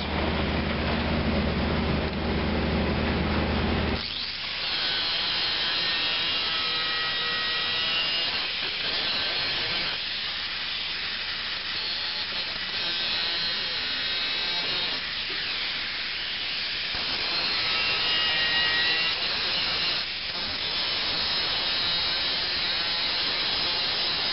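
Continuous crackling arc welding hiss on a finishing pass, reversed polarity with the clamp on positive, steady and fairly loud with brief pauses and restarts throughout, no talking.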